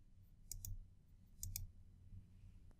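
Two quick double clicks of a computer mouse, a pair near the start and another pair mid-way, crisp and close over a low, quiet room hum, while selecting date ranges in library software.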